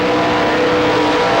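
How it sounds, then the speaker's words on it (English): A big Camaro race car roars up a drag strip at a shootout event in Avon Park, its engine blaring loud and continuous with a dense, close, unbroken rumble. "Here's the big Camaro, burning his way up the track there"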